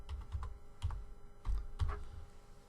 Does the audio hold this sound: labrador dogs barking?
no